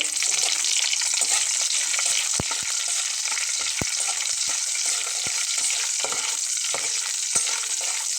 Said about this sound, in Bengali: কাঁচা লঙ্কা এটাকে একটু ভেজে নেব